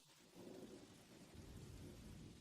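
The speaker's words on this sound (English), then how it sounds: "Only the sound of dripping rain could be heard everywhere." Steady rain pours down with low, rolling thunder rumbling in the distance, a continuous soaking wash with a deeper swell of rumble midway through.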